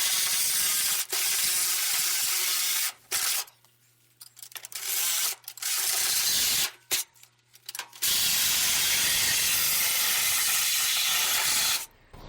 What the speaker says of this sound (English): I think I'll just plunge cut with the Sawzall right into here